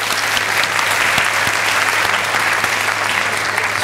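Loud, dense applause from a television studio audience greeting a Turkish singer before a live performance, a steady roar of clapping with a little cheering that holds without a break.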